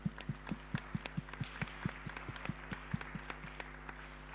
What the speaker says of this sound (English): please give a round of applause to my panel